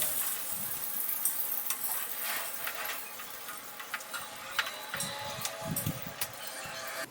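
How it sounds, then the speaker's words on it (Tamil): Chopped ginger and garlic sizzle steadily in a little oil in a pan, a continuous frying crackle with occasional stirring clicks and scrapes, fairly close and with no talking. "கொஞ்சோண்டு எண்ணெய் விட்டு அந்த வெட்டி வச்சுருந்த இஞ்சி பூண்டு இருக்குல்ல அதை கொஞ்சோண்டு போட்டு அதில் வதக்கிட்டு ஆட் பண்ணிக்கிட்டேன்"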